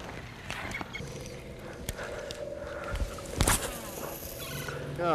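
A wild turkey gobbles near a lake in Mexico, its rattling calls sounding moderately distant among outdoor noise, with splashes and a few faint voices around it.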